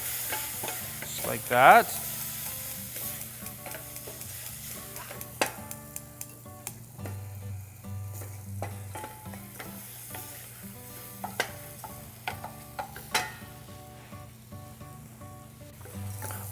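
Rice with chanterelle mushrooms stirred in a pan to coat, soft scraping and light sizzling with scattered spoon clicks, fairly quiet and close, with a brief spoken remark near the start.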